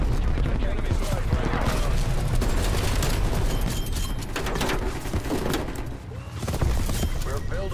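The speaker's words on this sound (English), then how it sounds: "Hostile artillery targeting active. Artillery inbound." Artillery strike explosions in Call of Duty Black Ops Cold War, a loud, dense barrage of booms and crackling blasts that rolls on continuously, with gunfire mixed in and voices speaking over it.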